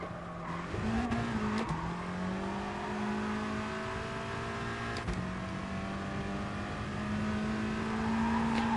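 A race car engine in the GT Sport video game, heard at Fuji, drones steadily at close range, its pitch climbing and then dropping sharply twice as the driver shifts gears, with a faint tire squeal in the background.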